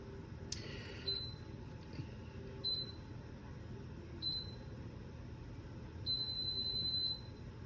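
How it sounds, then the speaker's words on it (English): A Ball jam and jelly maker beeps when done, three short high tones spaced apart followed by a longer beep, over a low background hum. "Beep, beep, beep, beep. It's done."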